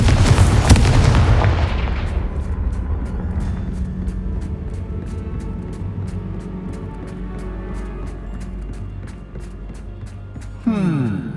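A Confringo fire spell blast in Hogwarts Legacy on PS5 bursts loudly at the start, then a long rumbling decay tails off under steady game ambience, with a rising whoosh near the end.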